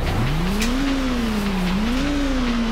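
A racing car engine in the Nintendo 64 game MRC, loud and continuous, with its pitch climbing, dipping and rising again as the car accelerates and shifts.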